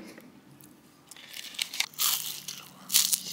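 Someone bites into a crispy buckwheat crêpe outdoors in Locronan, Brittany, giving a few close, dry crunches that grow louder toward the end.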